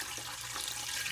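Water being poured into an 18L autoclave: a steady, close splashing and trickling stream of liquid filling the chamber, continuous and fairly loud, with no talking over it.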